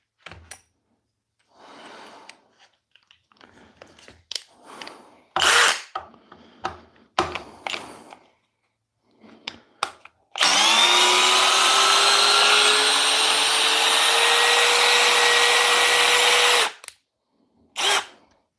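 A cordless power drill bores a pilot hole. Short trigger bursts and handling noises lead into one loud, close, sustained whine of about six seconds, followed by a final quick burst.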